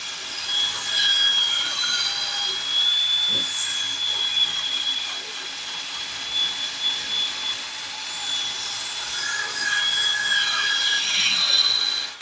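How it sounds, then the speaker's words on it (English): A small fan set low beside a car's wheel knuckle during a hub assembly job on a 2010 Nissan Murano, giving a steady whirring hiss with a faint high whine that runs throughout, with no talk. "set up a small fan down below to my right over here to blow all this dust out of my way"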